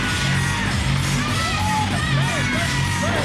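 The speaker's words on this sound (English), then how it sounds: "There's actually some cheers happening." Steady loud cheering and yelling from a wrestling audience, a continuous crowd roar with individual shouts and whoops poking through.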